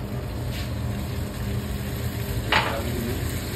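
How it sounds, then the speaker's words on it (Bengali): Spice paste with dry fish sautéing in oil for a Bangladeshi dry fish and red potato dish, a steady close sizzle with a brief scraping stir near the end. "মশলারে, এইভাবে কষাই"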